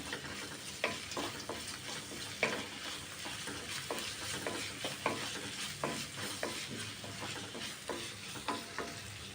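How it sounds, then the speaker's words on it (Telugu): Ginger-garlic paste fries in a pan for bagara rice, with a continuous soft sizzle broken by irregular utensil clicks and scrapes as it is stirred, close and fairly quiet, no voices. "అల్లం వెల్లి పేస్ట్ పచ్చి వాసన పోయేంత వరకు వేయించుకోవాలి."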